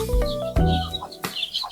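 Native chickens clucking close by in a backyard flock of hens, young chicks and breeding roosters, with bursts of low clucks and a few sharper calls over about two seconds; no one speaks.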